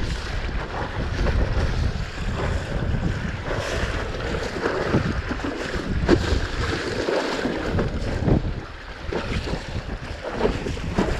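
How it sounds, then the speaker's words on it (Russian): Gusty wind over open water during wing foiling, roaring steadily and buffeting the microphone, with rising and easing gusts and water rushing under a board, no voices. "Ветер порывистый"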